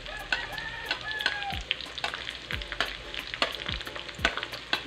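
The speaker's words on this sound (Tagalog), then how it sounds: "Antayin natin uminit yung mantika bago ilagay yung bawang sibuyas at saka luya." Garlic, onion and ginger frying in hot oil for fermented shrimp with rice, a close, even sizzle punctuated by repeated sharp clicks and taps of a spatula against the pan.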